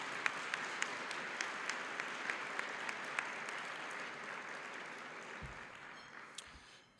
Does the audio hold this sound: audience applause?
yes